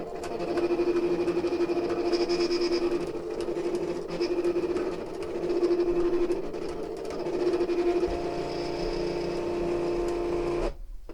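A Cricut cutting machine drives its carriage over an HTVRONT cutting mat with the wrong fabric blade. It makes a steady motorized whine broken into repeated humming passes, loud and close, and stops abruptly at the end.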